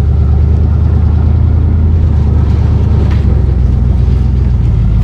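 A Chevy G-body car runs on a short test drive through a subdivision after master cylinder, brake booster and proportioning valve replacement, its engine a loud, steady droning rumble heard from inside the cabin.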